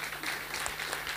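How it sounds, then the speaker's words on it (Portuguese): Brief, fairly faint applause from the audience at a regional sports awards gala, a scattered patter of clapping with a low steady hum underneath. "E pedia uma salva de palmas"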